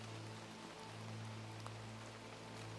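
Soft, steady rain falls on forest leaves and ground around a young beech, a gentle continuous patter with faint scattered drops and a low hum running underneath, no voices present.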